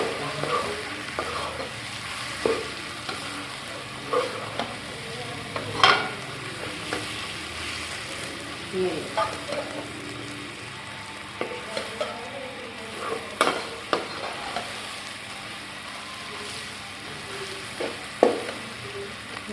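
A masala paste fries in ghee with a continuous close sizzle, punctuated by repeated scraping and stirring strokes from a utensil against the pan, with no voice present.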